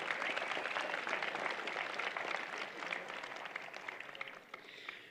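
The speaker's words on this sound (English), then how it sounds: "maybe we could begin with a round of applause for Mother Nature" Convocation audience at a university ceremony breaking into a broad round of applause, many hands clapping in a dense, steady wash that thins slightly toward the end, moderately distant.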